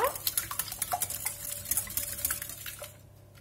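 Large eggs beaten by hand in a salad bowl for a pear and chocolate-hazelnut tart, a fast run of light clicking whisk or fork strokes against the bowl, fairly close, stopping near the end.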